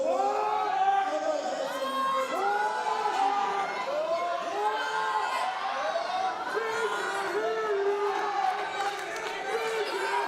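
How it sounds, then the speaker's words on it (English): A rowdy crowd at an independent wrestling show cheers, whoops and shouts in a dense, continuous din of overlapping voices, loud and close throughout. "This crowd is so rowdy."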